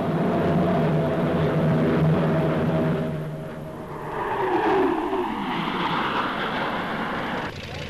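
Aircraft in a Farnborough Golden Jubilee flying display covering half a century of aviation: a loud, steady engine roar throughout, with a passing sweep as a plane flies by midway.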